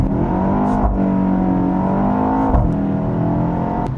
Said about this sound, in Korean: 액티브 사운드 끈 론치 스타트입니다.